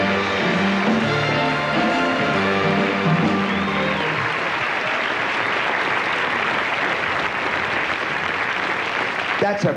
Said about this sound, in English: You can applaud for that number. You can make those people out there hear you applaud.